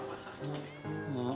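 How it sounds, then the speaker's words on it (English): Cats meow at a cat cafe, two or three drawn-out calls close by, with people talking softly underneath. "You pay to come and pet cats."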